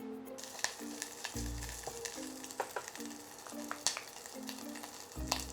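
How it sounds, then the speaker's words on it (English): Broken-up leftover beef hash fries in butter in a pan, a close, quiet sizzle broken by sharp spatula taps and scrapes as it is stirred, with a faint hum underneath. "Add in a little spoon of butter."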